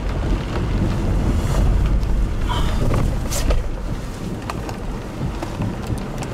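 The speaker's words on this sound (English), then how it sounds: "We're also getting some very large hail here in Fort Calhoun." Heavy rain and large hail pelt down in Fort Calhoun, near Omaha, during a tornado, a dense roaring wash with strong wind buffeting the microphone and scattered sharp impacts throughout.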